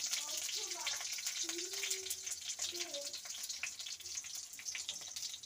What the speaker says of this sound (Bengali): ফোড়ন দিয়ে দিলাম তেজপাতা, কাঁচা লঙ্কা, আর 5 ফোড়ন দিয়ে দিলাম